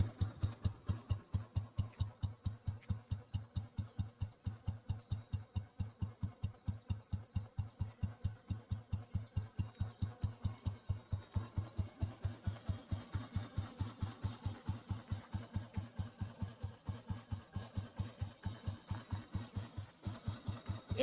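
An old petrol Royal Enfield Bullet motorcycle with points ignition idles steadily, its single-cylinder silencer thumping in a slow, even beat that runs unbroken for about twenty seconds, close and clear with no talk.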